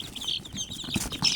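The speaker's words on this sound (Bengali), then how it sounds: "এই যে দেখতেছেন আমার দেশি মুরগির বাচ্চা আমি ব্রুডিং করতেছি।" Native chicken chicks in a brooder give high, rapid peeping chirps in uneven bursts, close by and moderately loud, with no one talking.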